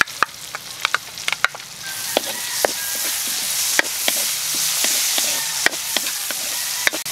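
Onion sautéing in butter with golden-browned garlic in a pan gives a loud, continuous sizzle, with frequent sharp scrapes and clicks of a utensil stirring throughout.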